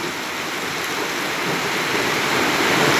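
Heavy rain pours in a constant loud hiss, growing slightly stronger toward the end, with nothing else audible.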